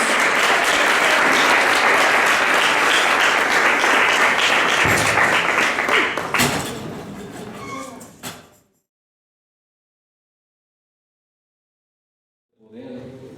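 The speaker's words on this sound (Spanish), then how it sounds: "Un aplauso para el Rey, por favor, que se escucha en los cielos." Church congregation at a Sunday service applauds loudly and steadily for several seconds, the dense clapping thinning into scattered claps before falling silent; a brief sound returns at the very end.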